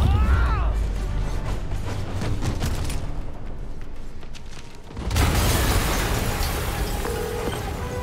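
In the video game Marvel's Spider-Man, a loud explosion booms amid a dense, rumbling action mix with gunfire-like bursts and a sudden surge of noise partway through.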